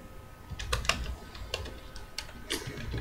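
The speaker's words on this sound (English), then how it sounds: "I'm really bad at typing today." Scattered keyboard clicks, irregular taps typed in short bursts, close and moderately quiet over a low background hum.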